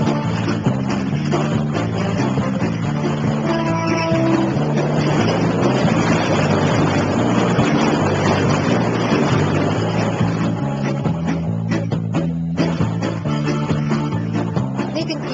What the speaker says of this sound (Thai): เรือนี่ค่อย ๆออกมาจากยุ้งเก็บเรือแล้วนะครับ